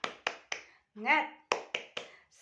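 Classroom 'tepuk semangat' clapping chant: sharp, separate claps in a rhythmic pattern, three, a short pause, then a chanted word, then three more, with a voice joining the claps.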